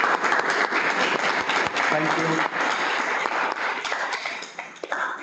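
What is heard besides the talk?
audience applause for a speaker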